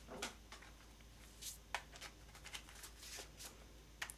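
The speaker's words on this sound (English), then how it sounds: "I'm just gonna start shuffling." Tarot cards shuffled softly by hand, a faint series of brief papery slides and taps spaced irregularly, close but very quiet.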